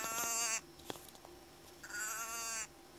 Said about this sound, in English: This is a Quaker bleat in heat deer call.